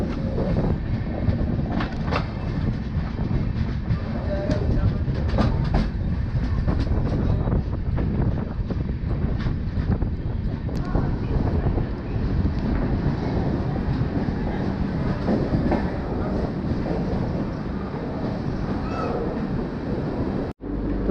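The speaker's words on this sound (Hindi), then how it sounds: "1 मिनट की देरी से हम चंद्रपुर रेलवे स्टेशन में अराइव कर रहे हैं" The Telangana Express pulling into Chandrapur railway station in Maharashtra, heard from inside the coach as a loud, continuous rumble with wind noise and faint wheel clatter throughout.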